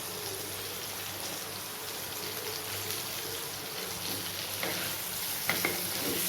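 Ginger garlic paste being stirred into shallow-frying soya chunks gives a steady, soft hiss and sizzle of hot oil, with a few faint scrapes of the spoon near the end.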